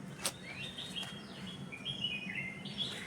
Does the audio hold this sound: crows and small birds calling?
yes